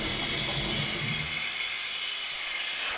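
The auto drain on a faulty workshop air compressor blows out air as a steady, fairly quiet hiss of escaping air that eases slightly toward the end, with no one talking.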